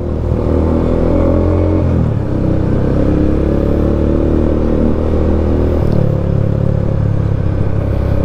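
A Yamaha Sniper motorcycle with an aftermarket muffler runs at close range: a loud, steady, low exhaust drone with a throaty rumble, the pitch shifting slightly twice as the revs change.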